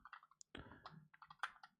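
Typing on a computer keyboard, a quick irregular run of close, soft key clicks and taps over a couple of seconds.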